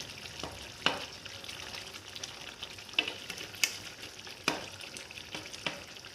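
Half-fried onions hit a hot frying pan with hot oil, sizzling and crackling steadily, with a few sharp pops and stirring scrapes scattered through.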